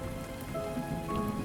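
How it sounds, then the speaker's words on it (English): Steady rain pouring down during a storm, a continuous dense patter of drops on a surface, even and moderately loud throughout with no voices. "The wind blew really hard, and the rain poured from the sky."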